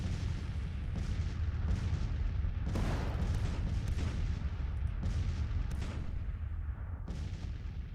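Artillery guns from a Grand Tactician: The Civil War battle fire repeatedly, with deep booms rolling over one another against a constant rumbling wash of distant cannonade.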